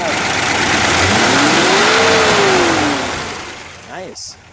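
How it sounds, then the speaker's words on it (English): A 1964 Chrysler 300K coupe engine revs once, the tone climbing and easing back over a couple of seconds, loud and close, then dropping toward idle with a brief voice at the end. "then we'll give it a rev."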